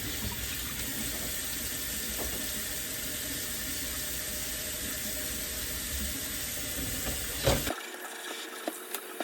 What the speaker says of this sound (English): washing out the Denman brush, all the combs